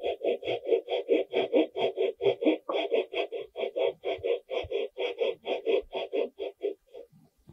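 A handsaw cuts through wood in about two dozen quick, even strokes, each a rasping scrape, close and clear and alone, slowing and fading at the end.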